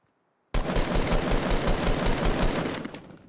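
Automatic gunfire in the Fortnite battle royale video game, a sudden loud, dense burst of rapid shots that starts after half a second of silence and continues without pause to the end.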